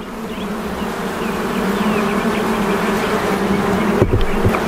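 Honey bees swarm and buzz around an opened hive during an inspection, a steady dense drone close by that holds throughout, with a brief thump near the end.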